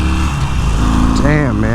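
A 2018 Harley-Davidson Sportster 48 motorcycle engine runs with a steady, close-up rumble throughout and briefly rises in pitch near the end, while a person talks over it.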